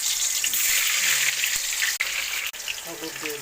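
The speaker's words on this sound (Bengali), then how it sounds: "এবার কড়াইতে আমি আলু ছেড়ে দিচ্ছি।" Potatoes fry in oil in a wok with a loud, steady hiss and crackle that holds throughout, broken by two brief dips, while faint scraping sounds come in near the end.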